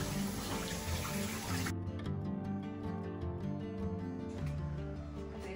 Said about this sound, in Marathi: आपण टोमॅटो धुवून घेऊया स्वच्छ.